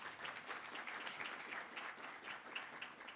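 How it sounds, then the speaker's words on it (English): An audience claps for a university Vice Chancellor at a round-table discussion on governments of national unity in Africa, producing a faint, steady patter of applause heard from a distance throughout. "Can we clap hands for the Vice Chancellor?"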